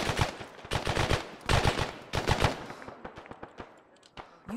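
Machine gun fire in the military-simulation game Arma 3: several loud, close sustained bursts of rapid shots, followed by scattered, more distant single shots and short volleys.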